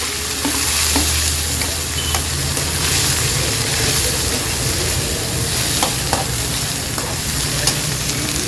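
Ginger, green chillies, garlic, curry leaves and onion sizzle and crackle steadily in hot oil in a frying pan, a continuous loud frying hiss with occasional stirring scrapes and no talk.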